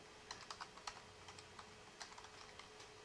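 Quick, light keystrokes on a computer keyboard come in irregular bursts, faint and close, against a steady background hiss.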